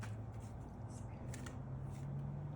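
Tarot cards are shuffled close by, a soft papery riffling and ticking that carries on continuously under a low background hum.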